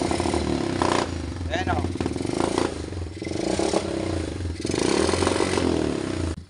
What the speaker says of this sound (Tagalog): Hindi po normal mga ka-idol yung andar ng Fury. Dapat po hindi kanyang balagbag.